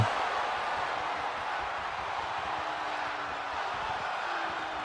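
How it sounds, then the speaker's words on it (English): A virtual arena crowd in the wrestling game WWE 2K25 keeps up a steady, roaring chant, a broad continuous wash of massed voices at a distance with no pauses across the stretch. "And the crowd chanting one more time."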